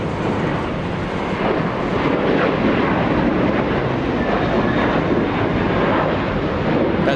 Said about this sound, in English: And a little Embraer trying its best to steal the spotlight.